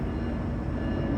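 A train rolls past a house, a loud, steady low rumble filling the whole clip without pause, no voices over it.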